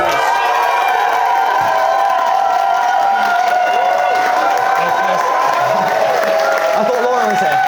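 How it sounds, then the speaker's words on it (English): Wedding guests cheer, whoop and applaud together for the newlyweds, a loud, dense crowd roar with clapping and shouts lasting throughout. "give a huge round of applause, okay, for Mr. and Mrs."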